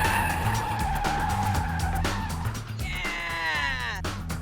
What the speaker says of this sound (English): The guys will get to grips with the 180 spin technique on a normal car first.